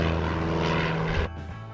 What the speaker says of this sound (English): The planes sound small, their hum mixing with the song of crickets.